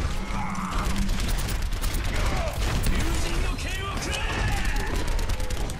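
Rapid gunfire aimed at Junkrat in the Overwatch video game, with dense crackling shots and clattering mechanical effects running loud and continuous throughout a busy battle mix.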